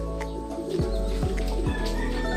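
Racing pigeons returning home and landing on a roof give soft, low coos, repeated several times over a steady low rumble, close by and with no talking.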